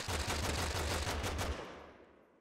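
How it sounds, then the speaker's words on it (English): Minigun firing in the video game Totally Accurate Battlegrounds, a loud rapid burst of continuous shots for about a second and a half before tailing off into a fading echo. "With the minigun! Minigun behind us!"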